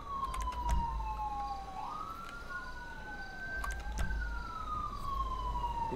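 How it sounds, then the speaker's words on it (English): Police sirens wail and sweep up and down in pitch, sounding from a moderate distance over a low background rumble. "I'm hearing all these sirens, man."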